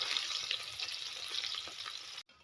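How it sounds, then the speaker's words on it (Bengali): Fish deep-fried until crisp in oil in a village kitchen in West Bengal, giving a steady, close hiss and crackle that runs unbroken and then cuts off abruptly near the end. "মাছটা কড়া ভাজা হয়ে গেছে,"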